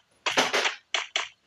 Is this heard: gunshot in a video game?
yes